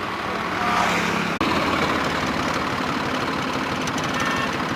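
A tractor engine idles steadily nearby with logs loaded behind it, a low continuous rumble with a faint knocking texture and one brief dropout early on.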